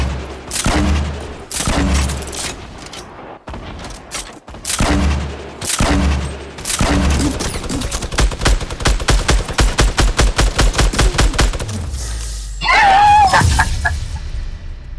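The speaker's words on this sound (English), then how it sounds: "Put down suppressive fire on them" Bursts of automatic gunfire laying down suppressive fire in Fortnite, with loud, rapid crackling volleys separated by brief gaps, then a tight stuttering run of shots near the end before a sharp shrill sound.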